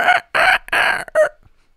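A person vocally imitates the shrieking cry of the alien creatures from A Quiet Place, four loud, close, strained bursts with brief gaps, the last shorter, and no other sound around them.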